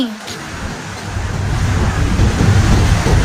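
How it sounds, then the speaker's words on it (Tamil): Water rushing at Vaigai dam, a loud steady roar of churning flow that builds and holds throughout, with faint voices of people nearby. "பாரு தண்ணி எப்படி வருது பாரு தண்ணி."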